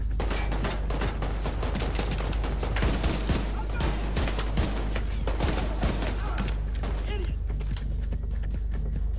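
Rapid gunfire from The Division 2 video game, with dense bursts of automatic shots and scattered single cracks over a low rumble, steady and loud across the whole stretch.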